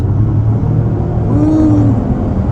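A 2024 Acura MDX A-Spec powers up on a twisty road, its engine a loud, steady rumble that swells slightly mid-pass with a rising tone, no talking.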